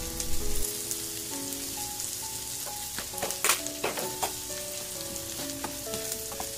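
Broccoli and bell pepper stir-frying in a pan with black pepper, a soft steady sizzle with light stirring clicks and scrapes, close and fairly quiet, no talking.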